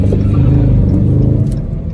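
A widebody Dodge Scat Pack revs hard on a wet street in the rain, its engine a loud, close, sustained low roar with slight surges and no voices.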